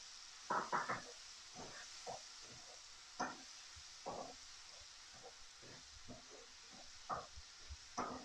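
Mushrooms with tomatoes and spices cook in a pan, giving a soft steady sizzle under scattered clinks and scrapes of stirring, all fairly quiet and close.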